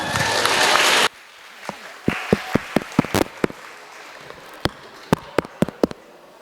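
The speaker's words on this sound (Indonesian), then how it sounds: "Berikan tepuk tangannya." Audience at an election workshop applauding, a second of dense clapping that quickly thins into scattered single claps and trails off.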